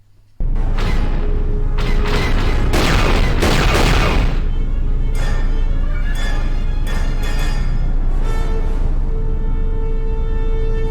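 Starship turret fire in Star Wars: Knights of the Old Republic II, a dense, continuous roar of blasts and mechanical clatter, loudest early on and then pulsing in separate bursts, with no talk.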